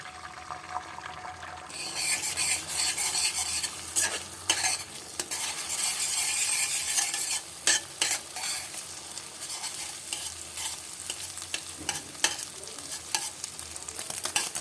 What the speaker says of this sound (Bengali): তেলটা গরম হয়ে গেছে, 2টো ডিম ফেটিয়ে নিয়েছি, দিয়ে দিচ্ছি।